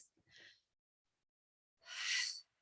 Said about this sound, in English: And settling with a few full breaths.